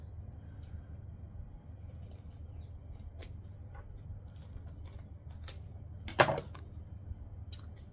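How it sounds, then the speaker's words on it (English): Scissors snip at sewn fabric corners in a few separate, crisp cuts, quiet and close, against a low steady background hum, with one louder clipping cluster near the end. "I can trim off the corners."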